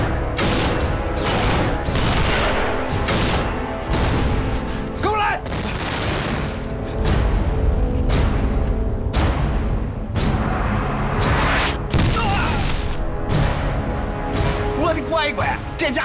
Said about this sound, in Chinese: 能禁得住这大炮吗？